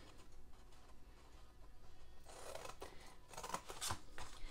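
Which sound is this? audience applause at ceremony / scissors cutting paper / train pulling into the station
scissors cutting paper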